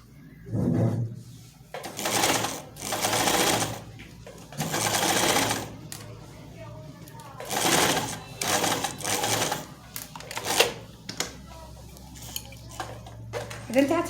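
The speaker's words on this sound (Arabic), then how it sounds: "نخيط" Sewing machine stitching a circle skirt, running in repeated bursts of a few seconds each with quiet gaps, close and mechanical, with some handling clatter and a voice talking at times.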